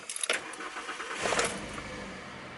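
A Toyota Camry from the 2000s with a faulty ignition coil cranks and starts, a short whirring crank followed by the engine catching and settling into a steady, close idle.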